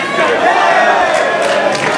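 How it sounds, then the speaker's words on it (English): A loud arena crowd at a wrestling match between Damian Slater and TJ Perkins roars and chants in unison, a dense wall of voices sustained throughout. "As a chant of Let's Go Slater erupts in the building"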